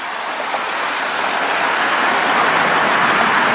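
A 2004 Ford Explorer XLS 4WD engine idling, heard as a steady, fairly loud broadband hum and whir that holds constant without a break, recorded close to the open engine compartment.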